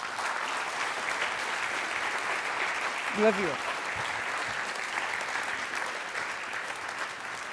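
An audience at a global community forum applauds steadily in a hall, with a dense wash of clapping throughout and a brief voice speaking over it.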